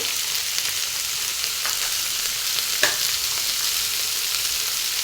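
Chicken curry masala fries steadily in a pan with a dense, continuous sizzle and a couple of sharp scraping knocks from stirring, no voices over it.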